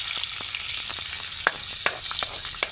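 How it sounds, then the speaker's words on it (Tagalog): Meat sautéing in hot oil in a pan, a loud steady sizzle with scattered spatter pops and the scrape of stirring, close up and without speech. "Ito ng sugdan ang paggisa"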